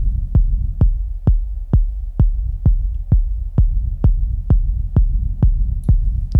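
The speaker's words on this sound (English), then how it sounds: "I might add an auto filter. I'm going to put this after the saturator because I want to be able to have an additional wobble." Techno rumble bass with a tempo-synced auto filter wobble after saturation, a deep booming kick-like throb pulsing about every half second, steady and loud with a low sustained hum beneath, no voices.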